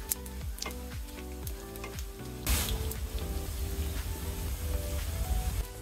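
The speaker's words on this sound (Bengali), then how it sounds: "এবার হাফ চা চামচ কালো জিরা আর হাফ চা চামচ পরিমাণ আস্ত জিরা দিয়ে দিব। কিছুক্ষণ ভেজে নেব।" Bay leaves, nigella and cumin seeds hit hot oil with a sudden loud hiss that settles into a steady close sizzle, over background music.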